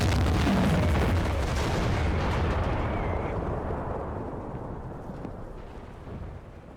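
A tank's cannon fires in World of Tanks, one loud close boom that rolls into a long, slowly fading rumble.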